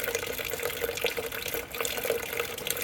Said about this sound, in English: I'm dumping extra water down the radiator and down the overflow tank